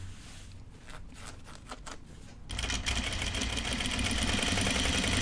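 A sewing machine stitches a pair of men's Jutland pants, starting with a few slow, separate needle strokes and then running in a steady, fast whir up close.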